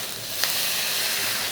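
Onions and tomatoes sauté in hot oil for a chicken gravy, giving a steady, close sizzling hiss that continues throughout.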